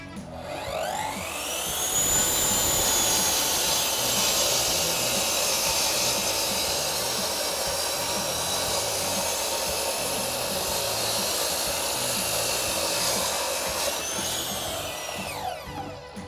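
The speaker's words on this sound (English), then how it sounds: "That's the R300 DCT, our 12-inch concrete cutting saw." An R300 DCT 12-inch concrete cutting saw slices through insulation brick, its motor ramping up to a loud steady whirring grind that holds for over ten seconds before winding down.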